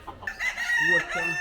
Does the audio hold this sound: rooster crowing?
yes